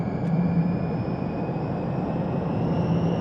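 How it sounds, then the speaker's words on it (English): A Lotus Evija electric hypercar accelerates hard, its motor making a steady, dense rumble with a thin high whine riding above, continuous and close with no voices. "God, that's a beefy sound from the motor."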